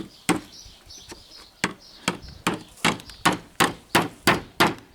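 Steady hammer strikes drive a nail into a wooden chicken coop on a farm field, about a dozen sharp knocks speeding up into an even rhythm, close and loud, with a few bird chirps at the start.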